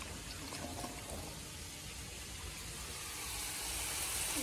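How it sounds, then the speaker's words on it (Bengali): Vegetables and potatoes being rinsed in a basin of water in a home kitchen, a steady close splashing and running-water wash that swells slightly toward the end, with no talking. "এখানে বটবটি আর আলু ভালো করে ধুই, আবার জলের মধ্যেই রেখেছি"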